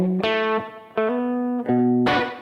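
An electric guitar with a distorted, effected tone strikes a blues chord, runs a few quick single notes, then lands on another ringing chord.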